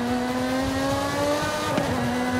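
A car engine in the Forza Horizon 5 video game revving through a town, a steady sustained engine tone that rises gradually in pitch, with a brief sharp burst near the end and no talking.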